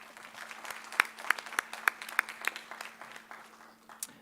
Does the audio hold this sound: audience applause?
yes